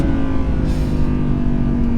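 An Audi R8 V10 Performance engine holds a steady, loud, close drone with a strong low rumble, sounding like sustained high-rpm running rather than a sharp rev.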